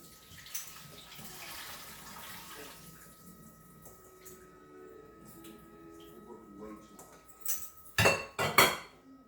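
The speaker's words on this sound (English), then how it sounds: "Let's drain our noodles." Bean thread noodles drained in a kitchen sink, with a low running-water wash followed by louder splashing pours and clatter near the end, under intermittent talk.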